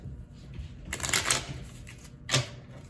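Playing cards are shuffled nearby in two quick riffling bursts, a crisp fluttering rattle followed by a short final shuffle.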